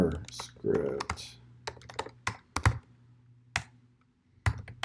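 Typing on a computer keyboard, irregular bursts of close, crisp key clicks with pauses between, and a person speaking softly in the middle.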